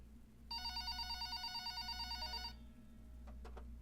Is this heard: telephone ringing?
yes